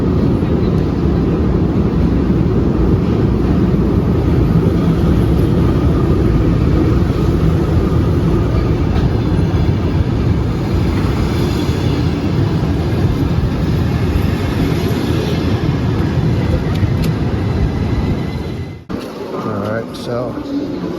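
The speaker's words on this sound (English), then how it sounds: "Here's the train." A train pulls into a station in Ukraine, a loud, continuous low rumble and mechanical roar of the arriving cars that holds steady, then drops off sharply near the end.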